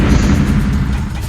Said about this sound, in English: It's a very satisfying explosion sound too, I will add, with those explosions there, how they all explode in a nice, harmonious sound like that.